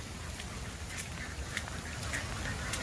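Ducks quack outdoors during steady rain, scattered short calls sounding faintly through a constant wash of rainfall and pattering drops.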